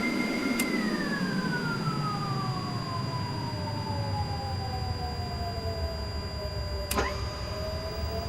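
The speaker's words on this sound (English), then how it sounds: "Go ahead and set the APU start switch to start." A-10C Warthog auxiliary power unit spooling up in a flight simulator game, a steady whine that slowly falls in pitch over several seconds, with two brief clicks and a constant faint high tone.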